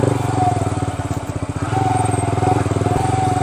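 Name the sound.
motorcycle engine running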